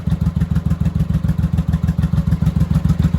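A 1983 Honda Shadow VT motorcycle engine idles close by with the choke fully off, a loud, steady, rapid lumpy throb with no one talking.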